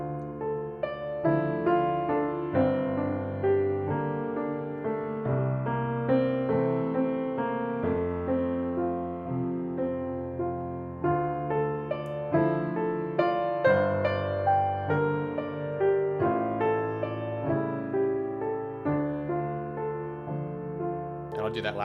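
A piano phrase is played without counting, a flowing run of notes and chords with a fairly steady pulse and slight slowing at the phrase's end, close and clear with no talking over it.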